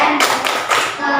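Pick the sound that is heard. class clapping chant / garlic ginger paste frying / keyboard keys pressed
class clapping chant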